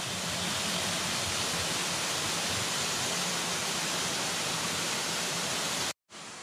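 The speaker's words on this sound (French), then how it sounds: "Voilà une autre cascade qu'il fallait pas manquer." A waterfall along an overgrown hiking trail gives a loud, unbroken rushing roar that holds steady throughout before a brief cutout near the end.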